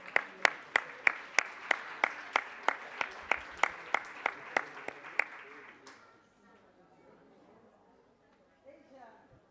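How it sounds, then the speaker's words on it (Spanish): Audience applause at a global university symposium, starting as a steady, even clapping rhythm that sounds like a single close pair of hands over a broad wash, then dying away after about six seconds into quiet room tone with faint murmur. "Y lo acogimos con un fuerte aplauso también."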